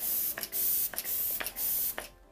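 Glamglow Glowsetter setting spray sprayed onto a face in four quick, loud misting bursts at a steady pace, each a close airy hiss, with a brief quiet pause at the end.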